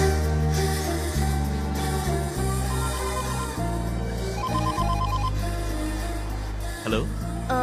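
A mobile phone rings with a melodic tonal ringtone, loud and sustained, its repeating notes playing on over several seconds with no talking.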